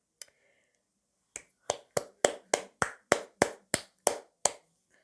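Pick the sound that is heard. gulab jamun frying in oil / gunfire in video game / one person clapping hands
one person clapping hands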